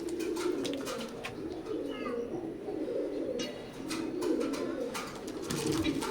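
Four male white golden teddy pigeons coo in low, rolling, overlapping phrases that swell and fade repeatedly, close and steady, with scattered clicks and faint chirps.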